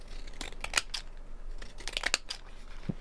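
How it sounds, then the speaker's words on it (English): Fiskars decal edge scissors cut paper in a craft session, a series of close, crisp snips and crunches in an irregular rhythm, alone. "Perhaps my decal edge scissors,"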